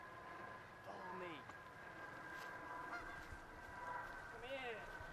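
Geese honk a few times at a distance, faint and scattered over a steady outdoor hum.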